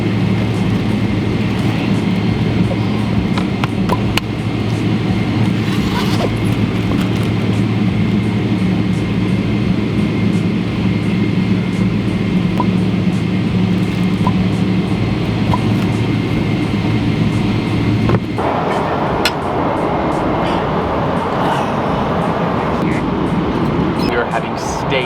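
Steady broadband roar of an airliner cabin on a 12-hour long-haul flight, a constant low drone with hiss for most of the stretch, shifting to a slightly lighter tone near the end.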